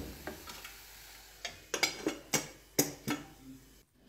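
Fried spices being stirred into vermicelli in a pan: a quiet series of scraping, clicking strokes as the spatula works through the noodles, with several sharper knocks against the pan near the end.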